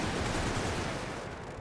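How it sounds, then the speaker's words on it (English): Cannon fire from a gun hidden among trees in The Great War strategy game makes a loud, dense burst of battlefield gunfire noise that fills the whole moment and then eases slightly. "This cannon just opened fire on us from its concealed position"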